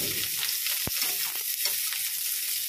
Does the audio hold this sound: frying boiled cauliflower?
yes